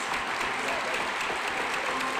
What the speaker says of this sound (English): Let's have a final round of applause for all of our honorees tonight.